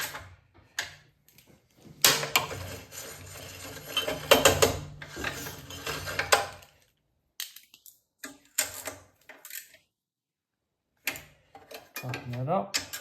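A screwdriver ratchets and clicks while tightening the carburettor securing screws on a BSA Villiers 119cc sloper engine, in close, uneven bursts with pauses between them.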